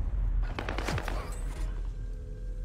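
Gunfire in a first-person shooter video game, a rapid burst of several sharp shots in quick succession, fairly loud and close, followed by a quieter lingering tail.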